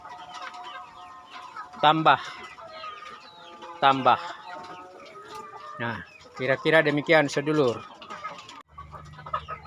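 Free-range chickens cluck and squawk in several loud bursts at close range, with busy background bird chatter, while someone speaks between the calls.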